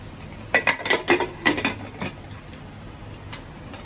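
A lid is set over a cooking pot of braised beef, a cluster of sharp metallic clinks and taps in quick succession, close and distinct, then a single later tap before quiet.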